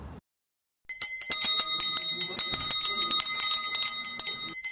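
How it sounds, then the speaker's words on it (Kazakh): A school's first bell rung by hand at a Knowledge Day ceremony, heard as loud, rapid, continuous metallic jingling after a brief silence, with a faint voice at the very start. "алғашқы қоңырау соғылсын"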